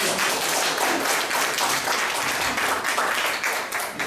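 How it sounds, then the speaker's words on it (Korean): A lecture audience at a talk on the history of Korean cryptocurrency gives a short round of applause, a soft but steady patter of many hands clapping at a moderate distance, with no speech over it. "박수 한번 쳐주시죠."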